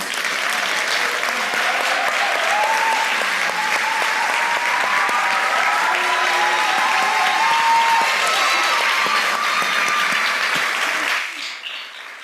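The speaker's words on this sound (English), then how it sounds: "Let's give the young people a round of applause." Sustained audience applause with some cheering fills a school auditorium at a superintendent's state of the schools address, loud and steady for about eleven seconds before fading at the end.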